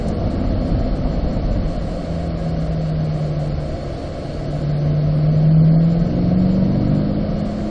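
A car on the Spring Mountain race track accelerates and shifts gears, its steady engine drone heard from inside the cabin with rising tones breaking between shifts and a constant road rumble underneath.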